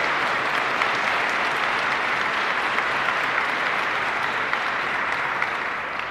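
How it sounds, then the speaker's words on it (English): Sustained applause from an audience at a vice-presidential rally in Minot, North Dakota, a dense, steady wash of clapping that holds evenly throughout without any speech over it. "Give them a round of applause, would you please?"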